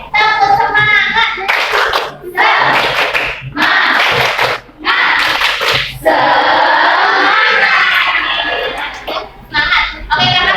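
A fourth-grade class does rhythmic group clapping for a cheer, with bursts of claps woven among loud, sustained children's chanting voices over about ten seconds.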